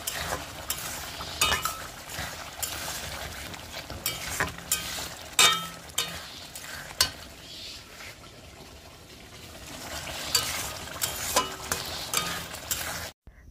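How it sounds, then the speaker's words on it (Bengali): Potato curry with eggs simmers in a pot at an outdoor village picnic, with steady bubbling and sizzling broken by repeated clinks and scrapes of a spoon stirring against the pot. "তো আলুর ঝোলটা ফুটে এসেছে, এবারে আমি ডিমগুলো এর মধ্যে দিয়ে দিলাম"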